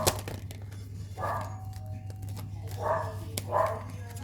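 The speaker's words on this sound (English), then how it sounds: "Sorry, my dog is barking and it's throwing me off." Indoors, a dog lets out several short barks, a few seconds apart, at a moderate distance over a steady low electrical hum.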